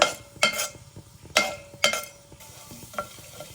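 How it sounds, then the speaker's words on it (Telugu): Urad dal frying in hot oil in a pan for a Telugu pesara attu pulusu curry, with a few sharp stirring clatters over a steady low sizzle, close up and with no talk. "ముందుగా ఒక టీ స్పూన్ మినపప్పు అయితే వేసేసుకోండి ఆయిల్ వేగిన తర్వాత"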